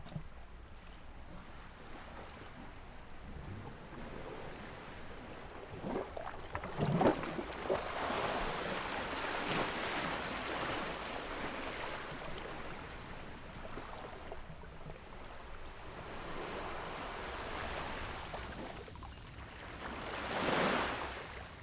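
Sea waves in the bay at Ancón, Lima, Peru wash and surge steadily, with swells rising and fading and wind rumble mixed in, heard without voices.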